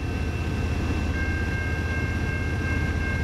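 CN freight train Q198 led by locomotive 2308 rolls past a gated crossing at Ladysmith at night, a steady loud low rumble of wheels and cars with a faint high crossing-bell tone running underneath throughout.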